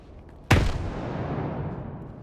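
A single loud grenade blast in S.T.A.L.K.E.R. 2: Heart of Chornobyl bursts suddenly and close, followed by a long rumbling, slowly fading tail with no voices.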